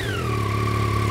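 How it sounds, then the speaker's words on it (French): Yamaha Tracer 9 GT+ CP3 three-cylinder engine humming close by, a smooth steady drone with a slowly falling whine on top, heard alone. "on a une sonorité qui est quand même plutôt bonne avec son ronronnement du CP3"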